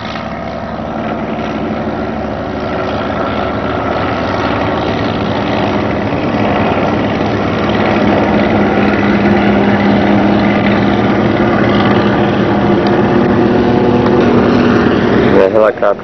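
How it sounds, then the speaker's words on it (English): A helicopter takes off and flies around nearby, its steady rotor and engine drone loud and continuous throughout, with a sustained low hum building slightly toward the end. "The helicopter's flying around really fast right now."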